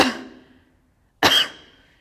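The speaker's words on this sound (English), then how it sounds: "put your hand on your belly and cough" Two sharp coughs made from the belly during yoga breathing instruction, close and fairly loud, separated by a brief silence, each with a quick decaying tail.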